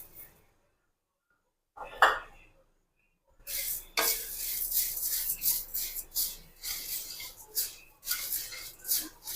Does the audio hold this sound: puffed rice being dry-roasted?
yes